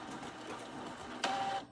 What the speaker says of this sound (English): I put this paper back into the printer so I can print